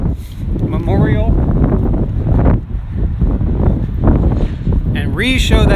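Wind buffets a microphone on a cool, windy downtown walk, a constant rough low rumble under a voice speaking throughout.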